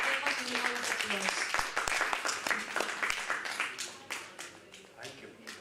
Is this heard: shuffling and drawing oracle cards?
no